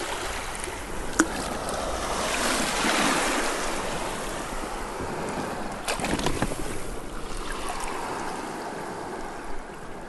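Waves wash steadily onto a beach in the far western Upper Peninsula, a continuous broad surf roar that swells and recedes, with brief clicks of stones or water here and there and no voices.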